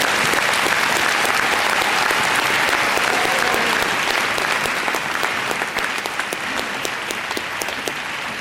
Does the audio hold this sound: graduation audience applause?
yes